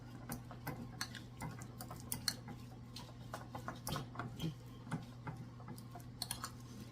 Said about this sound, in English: I take a fork and we start mixing them up